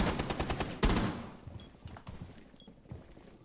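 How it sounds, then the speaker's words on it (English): Rapid automatic gunfire in Rainbow Six Siege punches through wooden barricades, a fast stream of loud shots ending in a heavy impact, then scattered fainter thuds and cracks as it dies down. "he shot through the wood"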